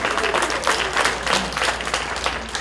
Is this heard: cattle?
no